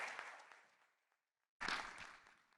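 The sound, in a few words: audience applause for a conference guest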